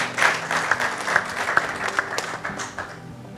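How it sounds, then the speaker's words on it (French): Church congregation applauding for the Lord during a service, a dense steady wash of clapping from many hands filling the room, fairly loud, with no clear talk over it. "On acclame pour le Seigneur."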